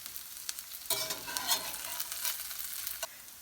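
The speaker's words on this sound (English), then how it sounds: "they'll take about 10 minutes in the frying pan to cook all the way through" Potato pancakes frying in oil in a frying pan, a soft, close crackling sizzle that swells into brighter bursts of spattering, with no talking.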